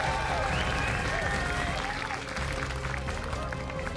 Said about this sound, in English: We can now hear you clapping and cheering.